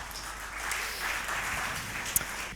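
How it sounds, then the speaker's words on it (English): Audience applause at a public talk event, a steady wash of clapping from the room lasting a couple of seconds with no speech over it. "And a round of applause"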